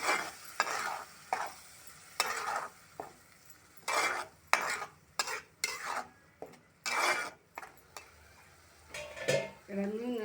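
Tomato puree stirred into egg masala gravy on a low flame, a series of short, close scraping strokes of a spoon against the pot in an irregular rhythm, with quiet gaps between them.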